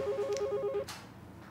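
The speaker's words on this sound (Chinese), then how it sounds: "电话响，我接个电话啊" A telephone ringing in an urban drama scene: a quick run of bright electronic ringtone pulses repeating steadily for most of a second, then cutting off into quiet room tone.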